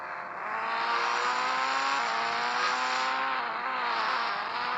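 Engine of a Bugatti revving in the Indian Bike Driving 3D video game, a loud continuous roar with rising and falling harmonics that shifts pitch at the two-second mark and holds steady near and alone.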